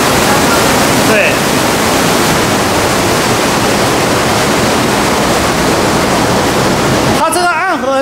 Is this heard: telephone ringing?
no